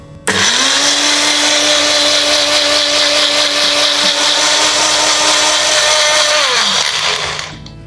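A mixer grinder blends rose gulkand with coconut milk, its motor starting abruptly, whirring loud and steady for about seven seconds, then spinning down and stopping.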